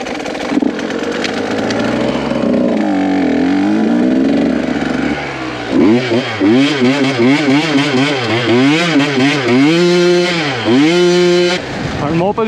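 An enduro motorcycle rides on a sand beach, its engine revving up and down in rapid repeated surges, loud and close, with a steadier drone before the revving starts.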